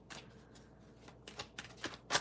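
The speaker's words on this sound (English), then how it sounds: "Sometimes I have to shuffle the cards a little bit more." Tarot cards are shuffled by hand in a quiet room, producing soft riffling swishes and light papery flutters in irregular bursts, ending in a sharper snap of cards.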